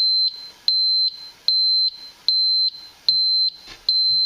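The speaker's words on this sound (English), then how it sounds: "Alright, so the light and the beeper's going off." A Forensics Detectors FD 101 oxygen detector alarm sounds a loud, steady series of high electronic beeps, each lasting about a quarter second, repeating at an even rhythm close up, with faint handling noise in the gaps and no talking.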